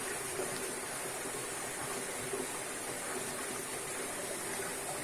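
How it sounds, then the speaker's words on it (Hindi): A waterfall stream pours down at the Barabar caves in Bihar, a constant broadband rush of falling and flowing water, steady and close, with no voices. "ये ऊपर से झरना आता है।"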